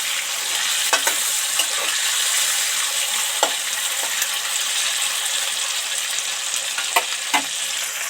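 Coriander leaves and tomato frying in hot oil, a steady close sizzle throughout with occasional sharp clinks of a utensil against the pan, no voices.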